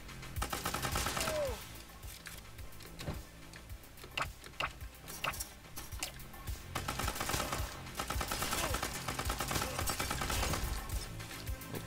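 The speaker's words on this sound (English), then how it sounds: "Suppressed SMG. Ooh. Really fast firing, I like." Suppressed SMG firing rapidly in a video game, bursts of quick muffled shots layered over dense game effects and background music, with clicks and impacts scattered throughout and no talking.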